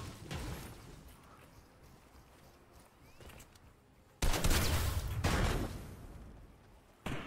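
Video game gunfire: a muffled spray of rapid shots that swells into a louder, dense burst of firing midway, then cuts off and briefly resumes, with no talking.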